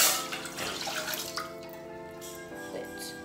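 Water poured while making coffee in a home kitchen in the morning: a steady, close trickling splash lasting a few seconds, with no talking.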